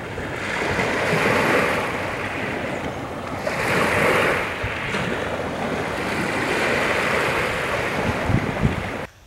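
Waves break on the shore at Paradise Beach in a continuous surf wash that swells and eases in rough cycles, with gusts of wind buffeting the microphone.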